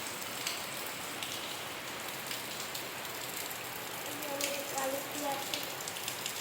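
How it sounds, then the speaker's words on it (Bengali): Light to moderate rain falls steadily outdoors, a continuous soft patter and hiss on surfaces with no pause, heard alone at a modest level, a faint tonal sound rising briefly near the end. "ওই দেখো বাইরে বৃষ্টি হচ্ছে।"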